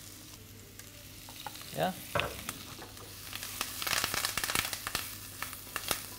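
Mushrooms frying in a pan seasoned with thyme, salt and pepper, with a steady close sizzle, scraping and stirring strokes, and a brief spoken word.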